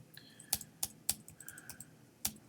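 Computer keyboard typing: a handful of sharp, separate key clicks at an uneven pace, close and fairly quiet, with no talking.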